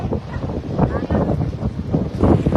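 Strong wind roars through a coastal area of Oroquieta City, a continuous low rumbling buffet with surging gusts, close and loud, with faint voices mixed in.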